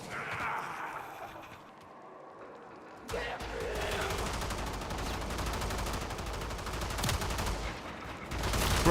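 Sustained rapid gunfire in Warframe starts abruptly after a quieter stretch and keeps up as a dense, steady rattle of shots, with a voice talking over it.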